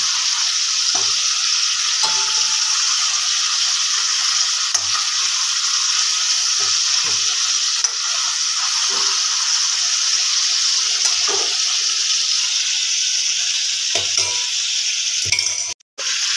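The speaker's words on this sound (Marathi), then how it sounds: "चांगल्या पद्धतीने आपल्याला परतून घ्यायचं आहे तेलामध्ये." Chicken frying in hot oil for a Marathi chicken masala, a loud, steady close sizzle throughout, broken by soft scrapes and knocks as the pieces are stirred and turned in the pan.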